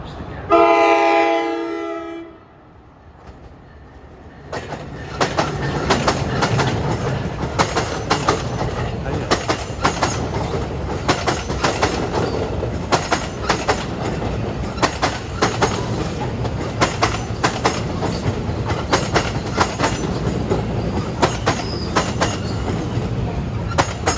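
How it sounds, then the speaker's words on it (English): An NJ Transit commuter train, number 3844 from Trenton to New York, pulls out of a station on a sunny day, with a rumbling roll and steady clickety-clack of wheels after a brief horn note at the start. "departing off of A is train 3844 from Trenton to New York"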